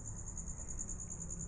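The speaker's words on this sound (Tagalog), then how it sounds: "Yung kuliglig ba tawag dyan?" Crickets chirp in a steady high, shrill trill around an abandoned village, continuous and fairly close over a quiet low background hum.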